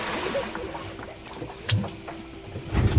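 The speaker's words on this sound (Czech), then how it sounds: "snad se hýbe loď" A small boat moves on water with soft sloshing and hull knocks, a few sharper bumps, and a low rumble swelling near the end.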